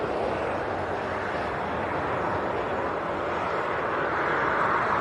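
A KLM Embraer 190 taxis at Leeds Bradford Airport, a steady broad jet engine roar holding at a constant distance and swelling slightly toward the end, with no voices.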